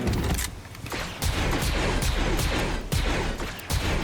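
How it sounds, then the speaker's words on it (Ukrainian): Dense, rapid gunfire from a Fortnite match, with loud overlapping shots and bursts in near-continuous volleys that hit several sharp peaks, sounding chaotic and intense. "Прям стрілянина"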